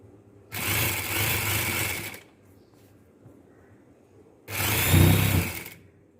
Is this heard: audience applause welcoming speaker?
no